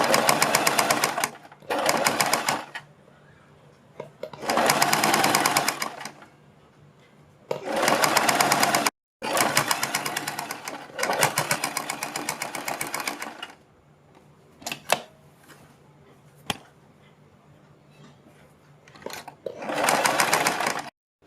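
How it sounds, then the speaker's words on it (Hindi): A sewing machine stitches around a kurti neck panel in repeated bursts of rapid, close mechanical rattling, each lasting a second or two, separated by quiet pauses and a few faint clicks. "इसके ऊपर चारों तरफ इस तरह से हम सिलाई लगा देंगे"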